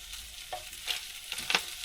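Food sizzling and frying in a Ridge Monkey XL stovetop sandwich pan inside a campervan, a soft steady crackle with a few brighter spits and pops, no talking.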